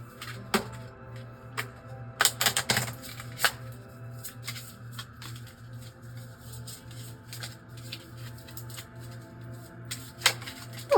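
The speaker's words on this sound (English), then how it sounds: "let's just shuffle this deck here and see what else we can learn" A tarot deck is shuffled by hand near the microphone, with papery riffles and sharp card snaps arriving in irregular bursts over a soft steady hum.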